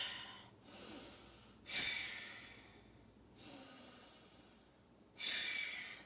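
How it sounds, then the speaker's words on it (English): Slow, deep yoga breaths taken in time with shoulder lifts and drops, alternating long inhales and exhales, close and soft, with two stronger, hissier breaths standing out. "Now I'm just going to breathe with these movements."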